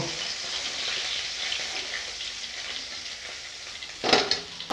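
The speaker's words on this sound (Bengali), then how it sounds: "এইভাবে সব মাছগুলো ভেজে নেব" Katla fish pieces fry in oil, giving a close, steady sizzle that stays soft for most of the stretch. Near the end a sharper burst of spattering crackle breaks through.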